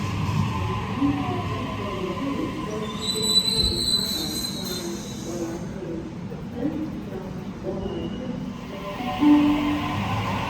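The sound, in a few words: train running on rails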